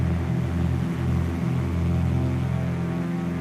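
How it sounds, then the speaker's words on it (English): Steady drone of the twin piston engines of a Cessna 337 Skymaster in cruise in Flight Simulator X after the mixture is leaned, a continuous even hum with a faint shift in tone partway through. "It did sound like there is a change in the engines"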